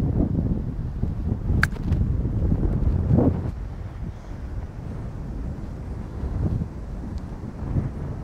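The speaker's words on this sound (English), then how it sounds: "but the wind is whipping that way." Wind gusting across an open golf course, a continuous low rumbling buffet that swells and eases over several seconds, close and fairly loud with no one speaking.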